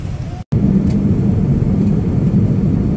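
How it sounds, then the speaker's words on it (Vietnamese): An airplane taxis toward the runway after a long winter delay, giving a loud, steady low engine rumble and whir heard from inside the cabin, with a brief cut near the start. "bây giờ đi ra đường băng này."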